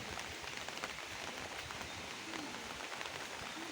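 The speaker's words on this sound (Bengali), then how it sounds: "বৃষ্টি পড়তেছে এখনও হয়তো আরও কিছুক্ষণ বৃষ্টি হবে" Steady rain falls over a Bangladeshi village, a dense, even hiss of drops on surfaces that stays constant and close throughout, with no voices.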